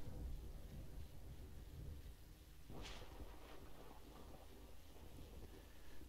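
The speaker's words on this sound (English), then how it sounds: "Electrical storm jump scare." Thunder from an electrical storm in the video game Generation Zero: a sudden sharp crack breaks through a steady wash of rain and low rumbling, then fades back into the storm.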